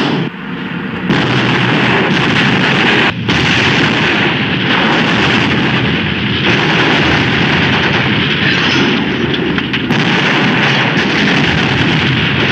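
A tank cannon fires high explosive rounds in battle, a dense, loud roar of heavy blasts and rumbling gunfire that barely lets up, with a few sharp breaks between bursts.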